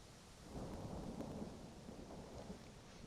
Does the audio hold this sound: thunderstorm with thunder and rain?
yes